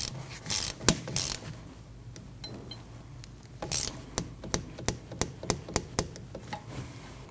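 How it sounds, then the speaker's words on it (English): A torque wrench clicks as it tightens a bolt on a rear brake hose of a 2013-2019 Ford Escape, giving a run of sharp, evenly spaced ratcheting clicks close by, with no talk. "That bolt gets torqued down to 22 foot-pounds."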